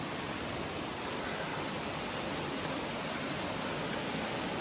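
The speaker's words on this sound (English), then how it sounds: "We're already on the third fall up here." Waterfall on a rainforest creek, a dense, even hiss of falling water that holds steady and full throughout with no voices over it.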